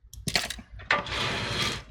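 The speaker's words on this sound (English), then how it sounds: "grab the screw, tighten it up." A screw being tightened while a graphics card is fitted into a custom desktop PC, with a few quick clicks and ratcheting taps followed by a steady, close-up rasping whir.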